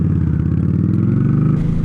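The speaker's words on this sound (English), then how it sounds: "I just like the way this exhaust sounds" Motorcycle engine and exhaust heard while riding, a loud, close, throbbing low rumble with a steady pulsing beat that holds through the short stretch.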